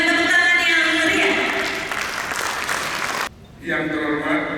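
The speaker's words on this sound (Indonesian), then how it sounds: "Kita berikan tepuk tangan yang meriah." Audience applause fills a launch ceremony for a provincial worker-protection program in East Nusa Tenggara, with broadband clapping mixed with a tonal background before cutting off briefly, then resuming.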